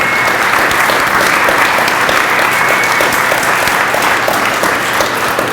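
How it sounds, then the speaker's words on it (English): A room full of people at a community meeting at the Lansdale YMCA applauds steadily for the whole stretch, a dense, loud, close wash of clapping with no break. "Give a round of applause to him"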